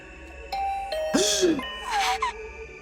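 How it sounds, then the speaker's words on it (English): A two-tone doorbell chime rings in the video game The Hundred Line, set against a soft musical background, with brief vocal sounds layered over the middle. "My heart did a somersault when my doorbell suddenly rang"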